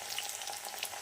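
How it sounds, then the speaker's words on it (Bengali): Chopped onions fry in a pan, a steady close sizzle and crackle that is brief and uninterrupted. "পেঁয়াজ কুচি প্রায় লাল লাল হাফ লাল লাল মতো হয়ে গিয়েছে, আদো আদো ভাজা ভাজা মতো হয়ে গিয়েছে।"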